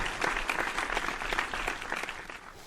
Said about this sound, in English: That is a long applause.